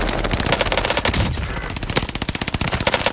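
Rapid automatic gunfire in a video game shooter match, dense bursts of loud shots firing in quick rhythmic succession throughout, close and dominant.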